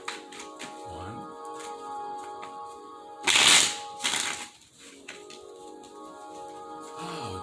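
A burst of tarot cards being shuffled close by, two quick riffles midway, with a steady hum of background music throughout.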